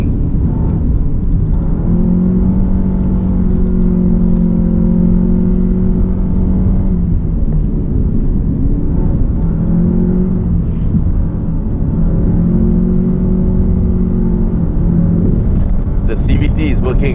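A 2019 Nissan X-Trail 2.5L AWD with CVT driven hard, its engine droning steadily with rising and falling whine as it revs, loud and continuous, with road and cabin rumble underneath.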